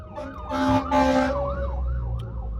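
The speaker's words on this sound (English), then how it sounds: "coming behind you, fire truck and ambulance." A wailing fire truck siren sweeps up and down nearby over low traffic rumble, with an ambulance siren tone layered in as the vehicles approach.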